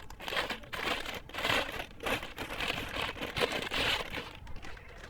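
Someone unpacks a small toy excavator from its packaging, with continuous close crinkling and rustling of plastic wrap rising and falling in waves.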